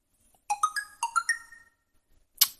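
LEAGOO T1 Plus smartphone playing its message notification tone, a short run of bright chiming electronic notes that rise and fall, followed a moment later by a brief higher blip, clear and alone.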